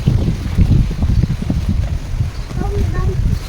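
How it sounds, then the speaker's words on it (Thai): Cold, dry wind blusters steadily into the microphone outdoors at a house in Laos, a constant low rumbling buffet with a few faint tonal sounds in the background. "ลมหนาว"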